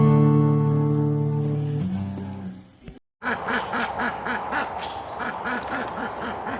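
A pet duck quacks in a steady run of repeated calls, loud and close, after a brief break in the sound, with no talk over it.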